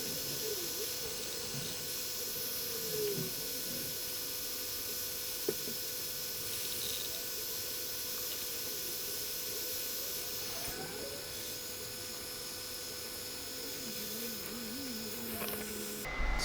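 A hot air rework station blows a steady, even hiss while heating the board under a Nintendo Switch charging port, continuous and close for the whole stretch, with faint small clicks and handling noises.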